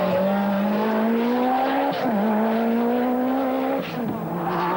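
Lancia rally car at the 1986 Sanremo Rally, engine droning loud and close through rising gears, with two brief dips at gear changes around the two- and four-second marks and no talk.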